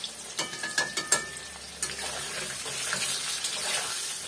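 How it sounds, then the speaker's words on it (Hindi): Potatoes fry in hot oil for a Bengali chicken kosha, giving a steady broadband sizzle with a few sharp clinks of stirring in the first second and a half. No one speaks. "अभी आलू को हम अच्छी तरह फ्राई करेंगे।"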